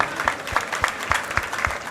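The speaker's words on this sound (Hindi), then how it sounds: "इस यूथ के लिए एक जोरदार तालियां होना चाहिए।" An audience at a political rally in Mumbra claps in a steady, rhythmic unison beat, loud and close, about four claps per second.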